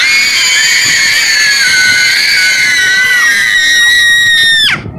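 A group of children scream together on request at home, one loud sustained shrill chorus lasting several seconds before cutting off abruptly.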